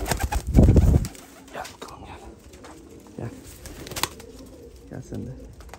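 Double-crested Uzbek pigeons coo, with a louder burst near the start and softer low calls after, alongside a voice talking nearby.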